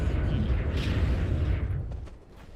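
Diabolic Edict explosions from Dota 2, a dense low rumbling barrage of booms and bursts that runs continuously, then tails off near the end.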